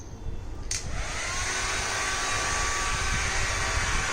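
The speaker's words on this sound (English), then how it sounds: "You just have to dry your hair with this" A Panasonic hair styler, a Dyson-style dryer, blows air in a steady, loud, broadband whoosh that runs continuously throughout, with a brief click-like shift near the start and no voices.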